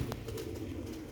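A pigeon gives a short, soft coo, low and faint, heard briefly and alone.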